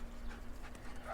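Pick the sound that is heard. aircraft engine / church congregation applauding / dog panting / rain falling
dog panting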